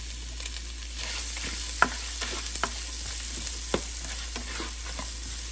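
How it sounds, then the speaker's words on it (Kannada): Finely chopped onion fries in hot oil in a pan, a continuous close sizzle with scattered crackles and stirring scrapes, no talking. "ಸ್ವಲ್ಪ ಕೆಂಪಗಾಗೋ ತನಕ ಹುರ್ಕೊಳ್ಳೋಣ"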